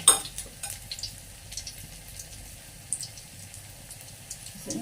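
Pepes tofu frying in a pan gives a low, steady sizzle with soft crackles and occasional utensil clinks, close and fairly quiet, with no voices.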